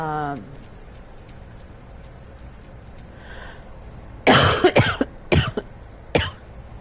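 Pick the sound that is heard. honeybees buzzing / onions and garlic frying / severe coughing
severe coughing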